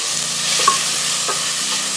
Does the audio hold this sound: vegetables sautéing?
yes